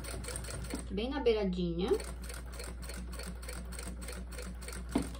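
A sewing machine stitching a bag on stitch setting 5, its needle running in a fast even chatter throughout, briefly overlaid by a person talking.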